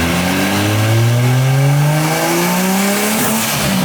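A turbocharged Dodge Charger with a swapped 2JZ engine accelerates at half throttle, its loud engine note climbing steadily in pitch, then dropping briefly as it shifts before rising again, heard close up from inside the car.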